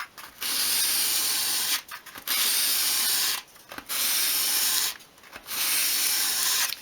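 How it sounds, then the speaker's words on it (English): A small wooden piece for a 1/12th scale Welsh dresser is swept by hand across a sheet of sandpaper at an angle, beveling its edge. Four long, even scratchy rasping strokes are separated by short pauses, close and clear. "just hold the piece at an angle against the sheet of sandpaper, and then just sweep it towards you"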